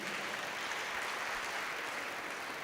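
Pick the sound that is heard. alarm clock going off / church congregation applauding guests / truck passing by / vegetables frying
church congregation applauding guests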